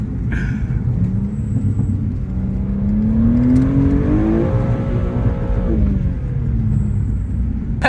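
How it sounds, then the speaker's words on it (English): A BMW G87 M2 drifts on a dirt back road, its engine revving up and down in a rising and falling whine over a constant loud rumble of tyres on gravel, with no talking. "M2 straight turned into a fully off-road drifting car, bro."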